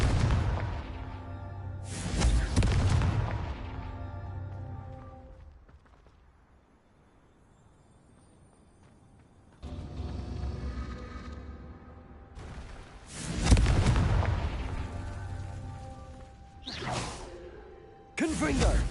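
Blasts from the Confringo fire spell in a video game come as several loud whooshing bursts, each a sharp broadband boom fading into a hiss, spaced irregularly with a quieter lull between. A voice speaks the spell between them.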